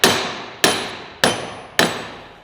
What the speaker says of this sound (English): Why do we use the copper hammer, Marco?